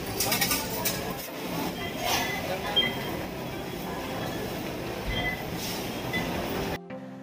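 A light-rail train at Carriedo Station in Quiapo, Manila, rumbles and rattles steadily along the rails, loud and close, with station noise throughout until an abrupt cut at the end.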